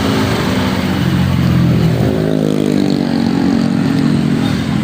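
A queue of motorcycles idles and revs nearby, a loud steady engine drone with low rumbling and a rising whine from one bike, continuous throughout with no talk.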